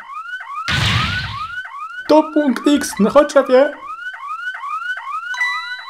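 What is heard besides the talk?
alarm sounding in video game Ghost Trick: Phantom Detective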